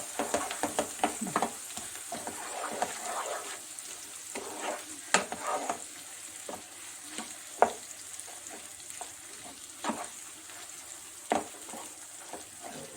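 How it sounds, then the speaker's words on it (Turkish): Carrots and onion sauté with tomato paste in a pan as a steady sizzle runs under frequent light spoon scrapes and taps, close and fairly quiet, with no one speaking. "Şöyle biraz kavrulsun."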